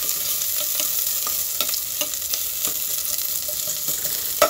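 Onion sautés in a pot for tinola, giving a bright steady sizzle broken by frequent spoon scrapes and clicks, close and continuous throughout with no talk.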